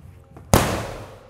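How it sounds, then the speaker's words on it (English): A steel mace club strikes a target during a pullover swing, landing as one sharp, loud impact that quickly decays. "do a club pullover and hit the target."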